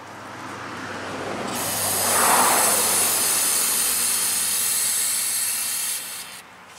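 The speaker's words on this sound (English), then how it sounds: "Fill that right up with brake cleaner" Brake cleaner sprayed onto the brake caliper of a 2003 Toyota Corolla, a loud, close, continuous aerosol hiss lasting several seconds before cutting off.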